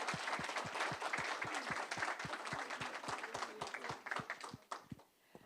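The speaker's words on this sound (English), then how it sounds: "if we can give a very large round of applause to the chairman" At a digital assets and emerging tech policy summit, the audience applauds the chairman. The clapping is steady with a strong regular beat, thins out near the end and breaks into a few scattered last claps.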